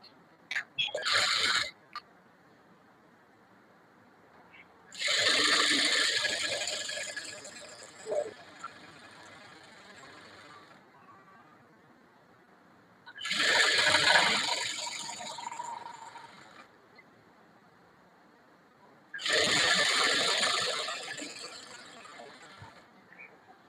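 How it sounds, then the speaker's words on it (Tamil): A sewing machine stitches a small folded hem on a churidar pant, running in four separate bursts of close, rapid mechanical clatter of a few seconds each, with quiet pauses between them. "ஃபர்ஸ்ட் ஒரு சின்னதா ஒரு மடிப்பு மடிச்சு தைக்கணும்."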